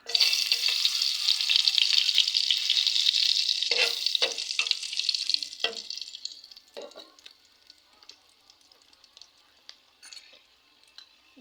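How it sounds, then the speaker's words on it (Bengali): Whole garam masala dropped into the oil left from frying prawns for a malai curry, an intense crackling sizzle that fades after a few seconds into quieter pops and utensil clinks, close and alone. "সেই তেলে আমি গোটা গরম মশলা দিয়ে দিলাম"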